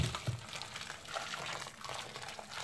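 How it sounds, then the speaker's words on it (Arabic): Hot water pours steadily over calf's feet with a soft gurgling, liquid rush, fairly close and continuous with no talking. "ودابا غادي ندير لهم ميه سخونه"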